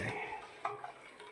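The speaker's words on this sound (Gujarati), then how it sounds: "ત્યાં સુધી હલાયેલા જ કરવું પડે, નહીંતર ચોંટી જાય" Milk sweetened with sugar is stirred in a pot as it heats and thickens for homemade ice cream: a brief, close swish of stirring with a couple of faint utensil taps against the pot.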